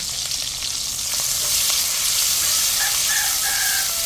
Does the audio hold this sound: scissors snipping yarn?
no